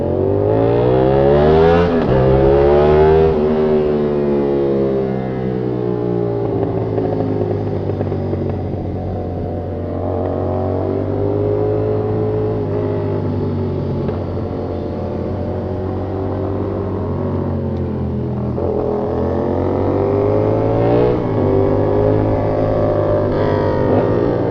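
A motorcycle engine revs loudly and close by during a test ride at a checkpoint stop. The pitch swings up and down in repeated throttle blips over a continuous idle drone, with no voices.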